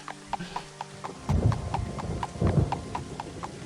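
Horse hooves clip-clop in a steady rhythmic gait while riding in the video game Elder Scrolls 2, close and fairly loud, with heavier thuds of movement breaking in now and then.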